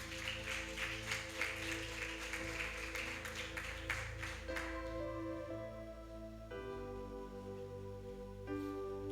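A church congregation applauding, a quiet, distant wash of clapping for about four seconds that fades out into sustained organ or keyboard tones.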